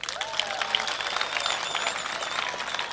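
A crowd of roughly 8,000 young people applauds at a gathering, a dense and continuous wash of clapping heard up close and loud throughout.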